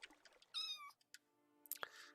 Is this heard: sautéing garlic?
no